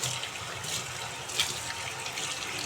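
Running tap water splashes over a bottle gourd being washed in a home kitchen, a steady close hiss with a few brief surges, heard alone without speech.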